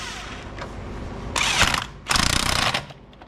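A socket wrench ratchets while tightening wheel lug nuts on a 2007 Mercedes C350. Two close bursts of rapid mechanical clicking stand over a low background hum, the second burst longer and steadier.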